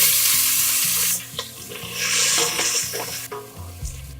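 Onions and green chillies fry for mushroom biryani, hissing and sizzling in the pan up close with stirring clatter, while a steady background tone runs underneath.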